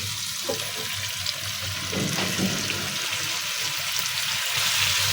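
Chopped potatoes and papaya tip into hot oil with cooked-down masala for a tilapia fish curry, giving a burst of sizzling followed by a steady, fairly close frying hiss with no speech.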